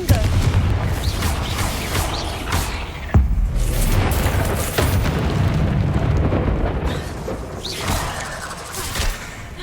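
In the Hogwarts Legacy video game, Confringo fire spells and other blasts go off as repeated booming explosions with sharp impacts, crackling fire and rumbling low end, all loud and close, with some game voices mixed in.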